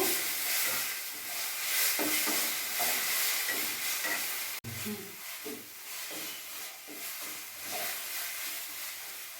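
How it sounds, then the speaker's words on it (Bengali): Fish curry of rohu in yogurt gravy, salt just added, stirred in a hot pan: a steady frying hiss with soft, irregular scraping strokes of the spoon throughout. "এবার আরও ভালোভাবে আমি নেড়ে নেব"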